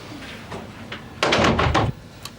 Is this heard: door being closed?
yes